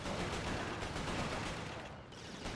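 Continuous gunfire in the PS3 shooter Resistance: Fall of Man, a dense, steady wash of rapid shots filling the whole stretch at even loudness with no pause, no talk over it.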